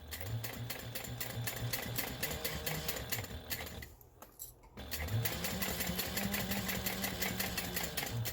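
A sewing machine stitches a gusset around the bottom of a bowler bag, running steadily and close, with a brief pause in the middle before the motor starts up again.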